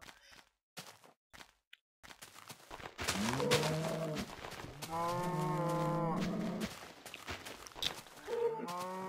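A cow moos in Minecraft Pocket Edition, with a few soft game clicks first, then long, close, drawn-out moos in the middle and a shorter one near the end.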